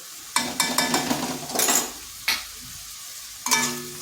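Ground cumin, coriander, turmeric and Kashmiri chilli powders fry in a pan for a Bengali fish curry, giving a steady close sizzle that is broken by several sharp scrapes and clanks of a spatula stirring against the metal.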